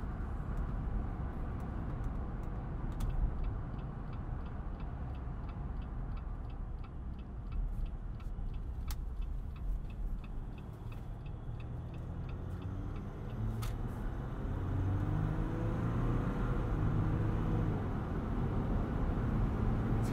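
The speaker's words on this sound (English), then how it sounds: "So you can hear a decent amount of tire noise, you can hear wind" Steady road roar from tires and rushing wind inside a 2020 Jeep Wrangler Unlimited Rubicon EcoDiesel cruising at about 55 mph, a continuous broadband drone with faint rhythmic ticking above it and no talking.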